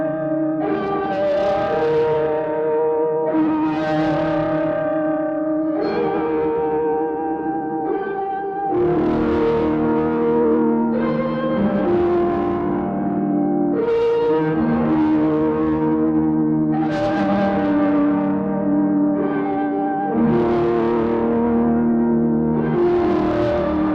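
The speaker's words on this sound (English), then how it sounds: "you can run some different effects after a fuzz or distortion to get some really interesting textures" Heavily distorted, fuzzy electric guitar chords through a Hologram Electronics Chroma Console effects pedal ring out one after another, each swelling and decaying with echoing, effects-laden sustain, loud and continuous.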